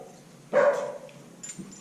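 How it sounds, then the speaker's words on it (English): A single dog bark or yip rings out near a riverside fishing spot, a short loud burst that fades into quiet background. "Don't mind the dog running around."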